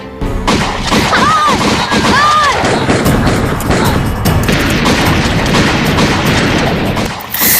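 Loud, dense barrage of gunfire and booming blasts in a school Independence Day drama performance, continuous and chaotic, with shouting voices mixed in.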